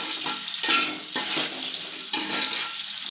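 Green chillies and onions fry in a pan with a steady, close sizzle, broken by a few scraping stirs.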